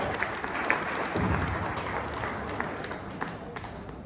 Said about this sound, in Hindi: जोरदार ताली वाजते का?